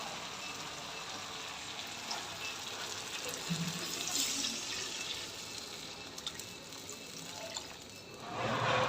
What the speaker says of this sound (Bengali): এখন ঝোল দিয়ে দেবো, পানি যতটা লাগবে ততটা দিয়ে দেবো